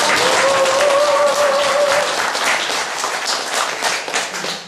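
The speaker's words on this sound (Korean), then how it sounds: "강의들 하시라고 박수 한번" A lecture audience at a religious peace and culture pilgrimage talk breaks into sustained applause, dense clapping near and loud that slowly fades, with a brief voice or tone at the start.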